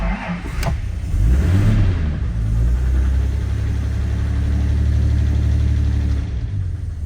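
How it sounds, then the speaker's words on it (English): A 1953 Jaguar XK 120 fixed-head coupe fires up from its push-button start, cranking briefly before the engine catches and settles into a loud, steady, close-up idle rumble. "now it is a push button start, and the push button is here"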